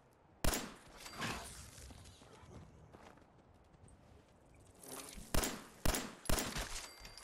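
Scattered gunshots in Fallout 4, a few sharp isolated cracks spaced irregularly over a quiet outdoor ambience with soft footstep-like shuffling, the last three shots close together near the end.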